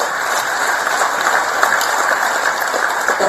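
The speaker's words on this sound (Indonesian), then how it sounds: "Tepuk tangan yang besar" Big applause from the crowd at a Megawati political speech: dense, loud, continuous clapping from a large audience, steady throughout with no talking.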